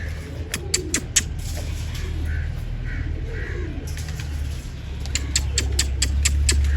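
Pigeons coo around a minaret, low soft cooing running steadily beneath a few sharp bird calls, fairly close, with no talk.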